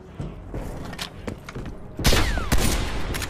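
Bursts of gunfire in the Outbreak mode of the video game Call of Duty: Cold War, several close rapid shots with thuds, the loudest volley near the end.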